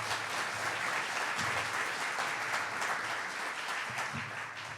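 A room full of people applauding at a State of the City gathering in a community space, with sustained even clapping that carries at full strength from start to finish, no voices over it.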